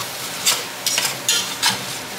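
Sausages sizzle in a pan for a grilled corn chowder, with a steady frying hiss broken by four short scraping stirs of a utensil against the pan, close and moderately loud.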